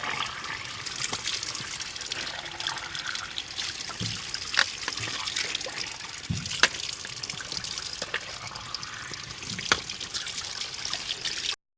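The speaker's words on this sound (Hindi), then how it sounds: "फुल गर्म पानी के साथ आप लोगों ने अच्छे तरीके से करना है वॉश" Milking machine parts being washed with hot water, a continuous close trickle and splash of running liquid with occasional clinks of parts handled in the stream.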